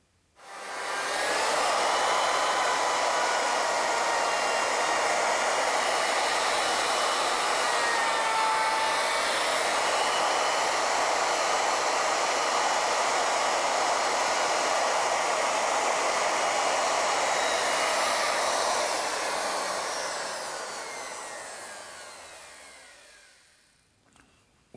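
A router milling the square section of a wooden spindle, a loud continuous high whine that starts abruptly, holds steady for about twenty seconds, then winds down as the motor spins to a stop.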